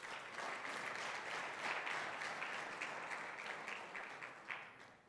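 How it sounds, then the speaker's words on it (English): A round of audience applause for conference speakers at a work dialogue event, an even wash of clapping that holds steady throughout, fairly distant and soft. "I want us to kind of give them a round of applause"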